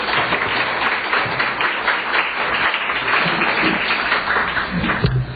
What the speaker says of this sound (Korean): 큰 박수로 목사님 모시겠습니다.